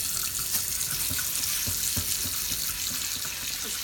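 Tap water runs steadily into a sink while a cast iron pan is washed with soap. Soft knocks and clinks from handling the pan come through the constant hiss of the water.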